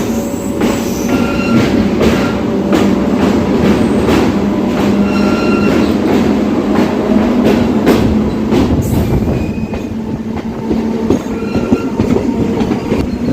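On the Secunderabad–Kazipet section, a train picks up speed, its loud, constant rumble joined by rhythmic wheel clatter and thin squealing tones, heard closely from on board.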